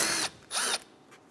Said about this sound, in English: Remove the 10mm bolt.